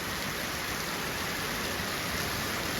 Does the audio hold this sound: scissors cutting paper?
no